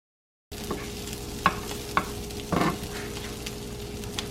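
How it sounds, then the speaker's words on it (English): Onions and peppers fry in a pan for a Philly cheesesteak plate, with a soft steady sizzle and a few distinct scraping stirs of a utensil, quiet and close, no voices. "add your onions and peppers. Now you're going to stir again."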